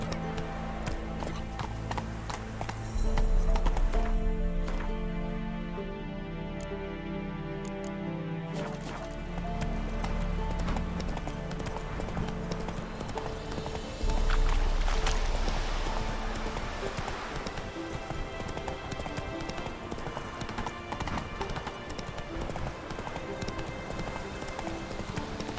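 In The Witcher 3 video game, the horse Roach gallops in steady clip-clop hoofbeats, close and continuous, under swelling game music with a few louder thumps and an occasional whinny.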